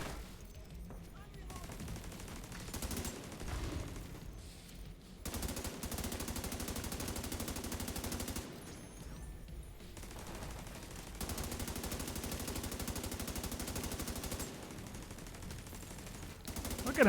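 Enemy machine gun fire rattles in The Division 2 in hardcore mode, coming as long sustained bursts of rapid shots separated by short pauses, loud and fairly close.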